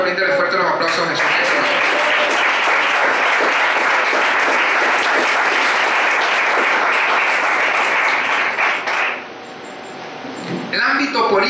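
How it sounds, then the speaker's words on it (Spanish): A church congregation applauds strongly during a Spanish-language sermon, with dense, loud, sustained clapping that runs for about nine seconds before dropping off, followed by a quieter tail with some faint movement. "bríndale fuerte los aplausos a Jesús"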